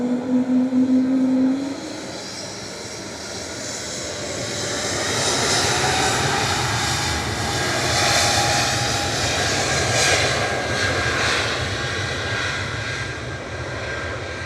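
An SAS Embraer E2 jet passes near an airport, its engine roar building from a low rumble into a broad, steady, fairly loud wash that holds for several seconds with no voices.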